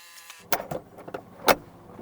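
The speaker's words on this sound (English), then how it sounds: "I just want to check the roof works" A convertible car's power roof mechanism works through its cycle, giving a few sharp clicks and clunks, the loudest near the end, over a quiet mechanical background.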